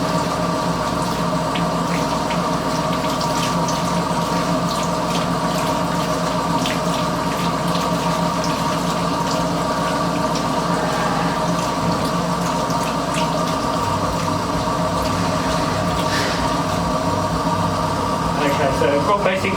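Flush fluid sputtering and gushing through a Rhino Linings MK15 spray machine, a constant watery hiss over a steady mechanical hum, with intermittent splutters and someone talking throughout.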